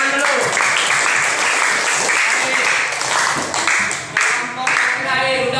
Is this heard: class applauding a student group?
yes